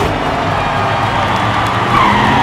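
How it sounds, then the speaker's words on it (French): Diecast toy Kia car drifting on a miniature race track, a loud, continuous rolling and scraping rush that builds slightly toward the end. "Le drift de la Kia avant le dernier virage."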